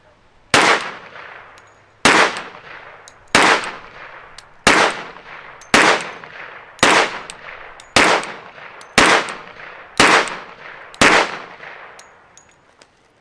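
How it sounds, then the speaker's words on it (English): Ten rifle shots fired as a group with handloaded ammunition outdoors, each a loud sharp crack with a ringing tail, spaced about a second and a half apart with no talking. "We're just gonna fire a 10-shot group"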